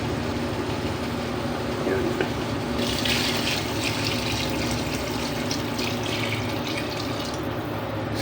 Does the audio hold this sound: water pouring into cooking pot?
yes